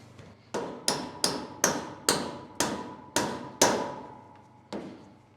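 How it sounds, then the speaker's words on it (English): Mallet knocking a tight-fitting laser-cut part into place: about nine sharp, close knocks in a fairly steady rhythm, each ringing briefly before the next, with a final lighter tap after a short gap. "I did bring a mallet with me because I'm assuming these are gonna need some amount of persuasion"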